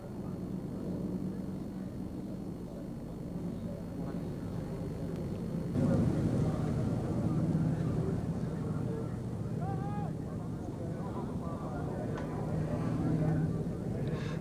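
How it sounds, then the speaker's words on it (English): An Avro Lancaster bomber flying at the Royal International Air Tattoo at RAF Fairford, a continuous low engine drone heard from a distance under a commentator's voice over the loudspeakers, swelling slightly midway. "The markings on this aeroplane are those of a Lancaster of No. 9 Squadron"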